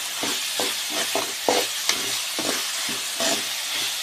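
Tomatoes cooking down with salt in a hot pan for a brinjal and dried-fish thokku: rhythmic stirring scrapes and taps over a continuous close sizzle.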